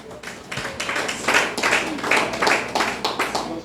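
An audience at a church equipping session claps loudly in a rhythmic pattern, with sharp bursts recurring roughly every half second, close and with no talk over it.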